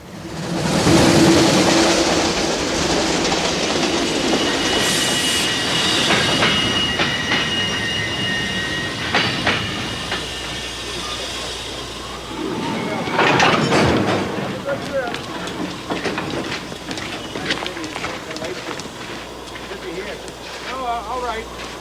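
A passenger train runs on rails at a station platform in a period gangster drama, its rumble and clatter steady throughout with brief squealing bursts, while people talk over it.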